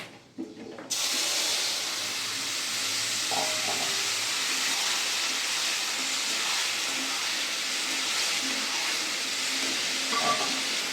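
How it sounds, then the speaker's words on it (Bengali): Chopped bottle gourd tipped into hot oil tempered with panch phoron and dried red chilli, giving a sudden loud sizzle that settles into a steady close hiss with occasional stirring clinks. "তেলটা হয়ে গেছে, লাউটা ঢেলে দেবো।"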